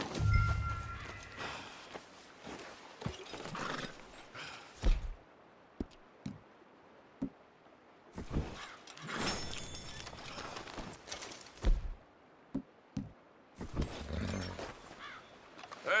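A horse's hooves clip-clop in the Red Dead Redemption 2 video game as scattered, fairly faint steps over a quiet background, interrupted by a few louder, rougher bursts of sound.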